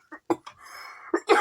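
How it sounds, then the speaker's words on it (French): A woman coughs a few times in quick bursts, short and close, followed by a throaty breath, in a quiet indoor setting. "Et je risque de tousser"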